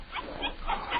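A puppy whimpers and yips in short, high, plaintive bursts in a 1946 Christmas radio drama, two or three quick cries within a second, close and fairly clear.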